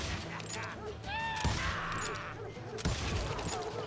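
A Wild West firefight in the video game Call of Juarez Gunslinger: bursts of gunshots and volleys amid busy game sound, with voices shouting over the shooting.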